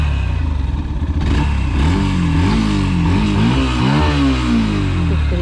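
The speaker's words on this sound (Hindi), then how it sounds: "सो एग्जॉस्ट नोट सुनाता हूँ मैं आप लोग को एक बार।" A Yamaha FZ-S V3 BS6 fuel-injected motorcycle's exhaust note while riding, a loud, close engine drone rising and falling as the rider revs up and shifts through gears, with no talk.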